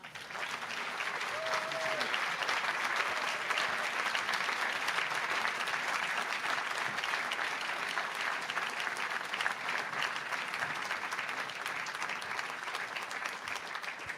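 Quiet, sustained applause from a live show audience, many hands clapping in an even wash that holds steady for the whole stretch.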